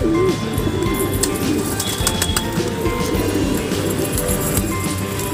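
A male Mukhi pigeon lands at a crowded loft and gives soft, repeated cooing close by, with the rustle and calls of other birds around it.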